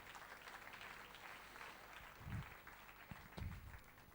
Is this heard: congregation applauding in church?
yes